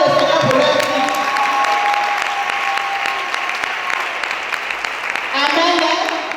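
Sustained audience applause from a congregation at a church couples' seminar, dense steady clapping throughout with a brief swell near the end, no talk over it.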